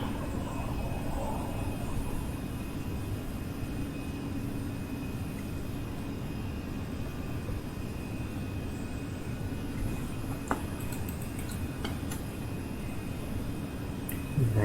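Steady broadband roar of Airbus A320 jet engines at climb power just after takeoff, a constant cabin-side drone filling the whole clip with no talk over it.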